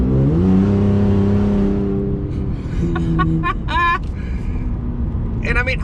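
A decatted 2019 Ford Raptor pickup truck engine drones with a low, rough exhaust tone that rises and falls as it revs, while someone talks over it in short bursts.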